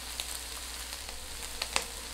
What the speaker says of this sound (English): we'll saute the onion slices until they become golden brown